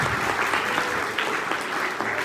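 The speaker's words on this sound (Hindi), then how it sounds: "एक बार जोरदार तालियां बनती है" Loud, dense applause from an audience at a motivational speaking event, many hands clapping together in a steady unbroken wash, close and full.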